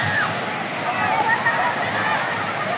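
Steady rushing water at Mabinay spring falls, a continuous loud broadband roar with faint voices and bird calls mixed in.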